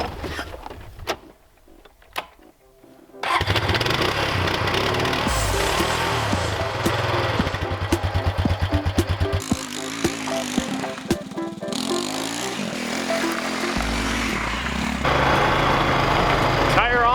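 A motorcycle engine, just repaired on a backcountry trip, cranks after a few quiet seconds and then catches, running loud and rough with revving that rises and falls, close by.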